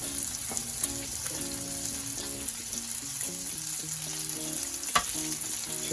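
Bacon sizzling on a Blackstone electric griddle, a dense continuous crackle and hiss with occasional sharper pops, steady and close, with faint background music beneath.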